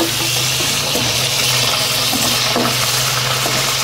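Onion and garlic sautéing in a hot pan, a loud, steady sizzling hiss with faint clinks of stirring, no voices.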